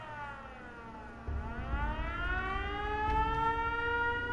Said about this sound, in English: I'm shutting that goddamn siren off.